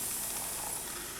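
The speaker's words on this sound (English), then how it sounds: "I will give it another light spray" A single brief hissing burst of spray lands lightly on a polymer clay bowl, close and steady for about a second.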